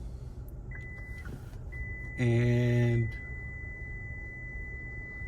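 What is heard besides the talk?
car beeping warning as hatch won't close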